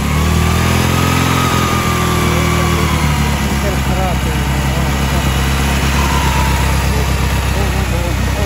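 A petrol Volkswagen Golf Syncro engine idles with a steady, loud mechanical rumble and ticking, close by, while people talk over it.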